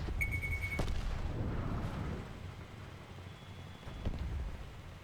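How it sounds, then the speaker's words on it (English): In a Call of Duty Black Ops 4 Blackout tank fight, heavy gunfire and booming blasts rumble continuously. Sharp cracks and a tonal whine sit over a dense low roar. "I feel like I'm getting explosions shot at me."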